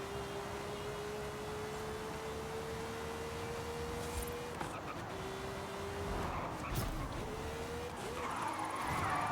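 A Ferrari driving in Forza Horizon 5, its engine holding a steady tone that dips and climbs through gear changes over a wash of road and wind noise, with faint tire scuffs near the end.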